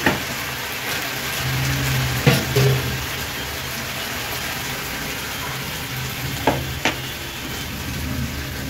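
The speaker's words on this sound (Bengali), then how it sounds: "পেঁয়াজটা ভাজা হয়ে গেছে, এখন আমি পোস্তটা অ্যাড করবো।" Onions frying in a pan with poppy seeds being added, giving a steady sizzle throughout with a few short scraping stirs.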